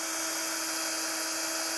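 A power drill with a 4.5 mm bit boring rivet holes for an off-road snorkel on a 2023 Jeep, a steady high-pitched whine running continuously and loud.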